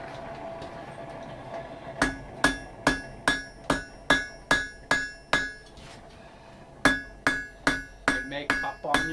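A hammer strikes a heated knife blade on an anvil in a forge, ringing metallic blows in a steady series of about fourteen, loud and close, with a brief pause midway.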